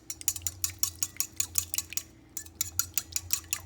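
Milk and two eggs whisked together in a bowl for fried chicken batter, a close, quick rhythmic clatter of whisk against the bowl with a brief pause midway.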